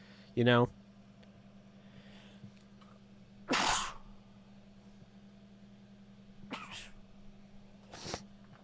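Sharp sneezes at an indoor live stream, one early burst and a stronger one a few seconds later, followed by fainter bursts over a steady low hum.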